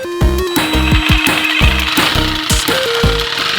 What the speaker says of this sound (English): I grabbed a blade and also a clamp and I just kind of taped them together and then I put it in my Sawzall.